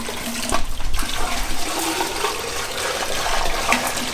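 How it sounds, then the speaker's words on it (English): Water gushes through a homemade PVC pipe fish table aquarium, a loud close rushing and splashing flow that surges early and then continues steadily, with no speech. "Get a wide shot of the water going everywhere."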